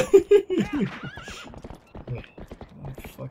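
A horse whinnies loudly near the start with clip-clopping hooves in Zelda: Twilight Princess HD, as people talk and comment over the game sounds throughout.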